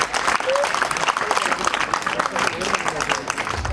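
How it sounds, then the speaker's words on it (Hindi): Audience applause fills a school annual function hall, dense steady clapping from a large crowd continuing throughout, with a faint voice briefly audible above it. "बहुत जोरदार तालियां बजाइए"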